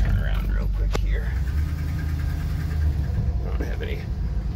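A 1976 W200 4x4 truck with an M880 setup idles steadily with a low, rumbling engine drone throughout, close up, while someone talks over it.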